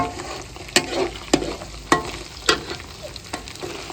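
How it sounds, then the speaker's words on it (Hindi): Chopped tomatoes frying in masala with browned onions in a pan, a constant sizzle broken by regular spoon scrapes and taps about every half second, close and clear, with no talking. "अब जो है ना टमाटर डालेंगे।"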